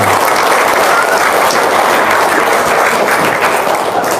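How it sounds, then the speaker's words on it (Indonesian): Loud, dense audience applause at an Islamic boarding school prayer gathering, continuous close clapping throughout without any break. "Tepuk tangan dong."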